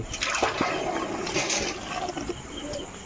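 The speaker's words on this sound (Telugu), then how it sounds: "బర్ర బాగా దప్పి దప్పిగొన్నట్టుంది ఇది ఏందో ఫ్రెండ్స్ పొలం మీద నీళ్ళు తాగుతుంది ఇంటికాడ వచ్చి నీళ్ళు తాగుతుంది" Continuous sloshing and slurping of water close by, a thirsty buffalo drinking steadily with splashes, no talking.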